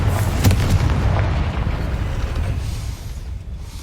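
Spell blast from Confringo in the game Hogwarts Legacy, a loud booming explosion with a sharp hit near the start and a long rumbling low-end decay that fades slowly.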